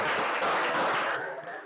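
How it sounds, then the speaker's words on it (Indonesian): Children in a classroom clap their hands together, a dense burst of applause that is loud and steady, then tapers off slightly toward the end. "Nah, tepuk tangan."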